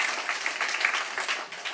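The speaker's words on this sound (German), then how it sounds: "Also jetzt bitte mal einen Applaus" A crowd applauds steadily, dense clapping from many hands filling the whole stretch at an even, lively level.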